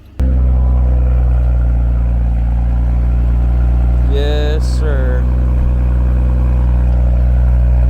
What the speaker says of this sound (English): Got the B58 right here. Right here. So we finna start her up.